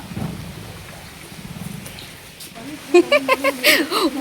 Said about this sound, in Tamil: சம மழை பெய்யுது தெரியுதா